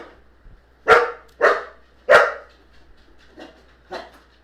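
A dog barks five times close by, three loud sharp barks fairly evenly spaced, then two softer ones after a short pause.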